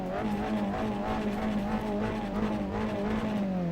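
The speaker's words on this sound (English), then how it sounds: "It sounds almost like the V12." A race car engine in the Assetto Corsa racing game holds a steady, loud, droning note with gently wavering pitch, with hints of tire squeal underneath and no voices.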